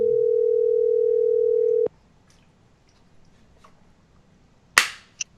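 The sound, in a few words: telephone dial tone after call hung up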